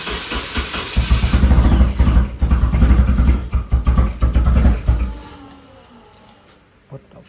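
An engine with its timing a tooth off runs loud and uneven for about five seconds with choppy, pulsing revs, then dies away into near silence with a brief knock at the end.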